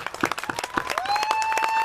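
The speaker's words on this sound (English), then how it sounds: "I'd like to give you a round of applause." Applause from a rally audience honoring military veterans in Grand Junction, Colorado, a couple of seconds of dense clapping with a steady electronic tone rising in underneath.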